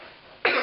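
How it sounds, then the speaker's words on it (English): A single sharp cough bursts out loud and close after a moment of quiet room tone, holding briefly with a rough, breathy edge. "I'm going to cough again."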